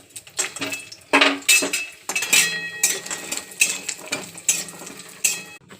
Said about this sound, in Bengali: কড়াই গরম হয়ে গেছে, বড়িটা ভেজে নিচ্ছি।